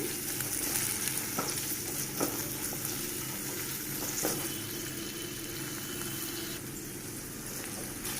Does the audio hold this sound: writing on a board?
no